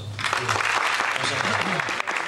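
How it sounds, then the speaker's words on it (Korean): Welcoming applause from a church community gathering, a short steady burst of clapping lasting around two seconds with faint voices mixed in. "우리 환영의 박수 한번"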